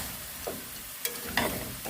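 Candied sweet potatoes are stirred in bubbling sugar syrup in a pan, faint soft sizzling with a few sharp scraping strokes of a utensil, no voices.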